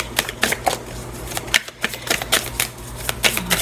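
A deck of tarot cards is shuffled and cut by hand, giving a quick irregular run of crisp riffling flicks and soft slaps, close and fairly loud, with a brief pause in the middle.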